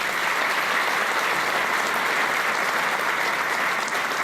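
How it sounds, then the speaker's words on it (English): An audience at an awards gala dinner in Perth, Western Australia claps steadily, a dense, even wash of applause holding at full strength throughout. "How about a round of applause?"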